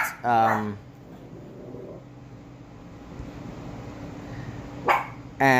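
A pet dog barks in a short burst of sharp yips, goes quiet, then barks again at the end, loud and close indoors.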